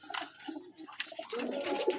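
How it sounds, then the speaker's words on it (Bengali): Rajshahi Giribaz pigeons coo in a loft, soft low throaty calls overlapping with scattered bird chirps and rustling, quiet and close. "দেখুন কবুতরগুলো মাশাল্লাহ অনেকই সুন্দর"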